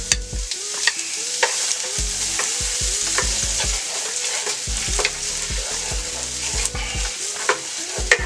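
Onion frying in oil in a skillet makes a loud, bright sizzle, broken up by repeated clattering knocks and scrapes as the pieces get stirred around.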